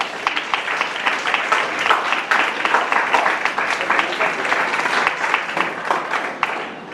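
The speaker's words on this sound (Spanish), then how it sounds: "Dele palmas al Señor" A church congregation claps together for about seven seconds during a sermon, a steady, dense patter of many hands with a few sharper individual claps standing out, loud and continuous throughout.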